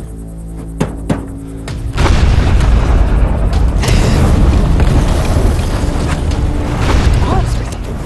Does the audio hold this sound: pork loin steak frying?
no